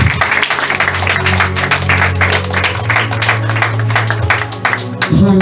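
A church congregation at a Sunday service applauds, dense sustained clapping filling the room with crowd voices mixed in, close and loud throughout.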